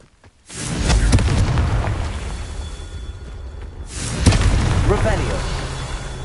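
Confringo spell blasts in the PS5 game Hogwarts Legacy, a loud booming explosion with a rushing tail, then a second burst about four seconds later, close and heavy under game sound.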